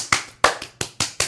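Hands clapping sharply and close, six crisp claps in a quick, slightly uneven rhythm, with no voices.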